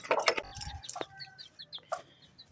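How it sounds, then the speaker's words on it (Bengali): Chickens clucking as they walk into their coop at dusk: short, uneven clucks and squawks in a close, quiet setting, no talk. "দেখো মুরগিগুলা কেমন ঢুকছে।"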